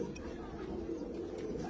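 A Madrasi pigeon of the Chennai breed, an old green male, coos softly and steadily, faint and close, while a person talks over it.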